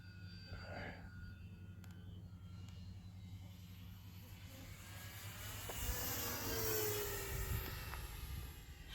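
An FMS 1450mm P-51 radio-controlled model plane flies at roughly three-quarter throttle, its engine droning steadily at a distance and swelling louder as it passes closer near the end.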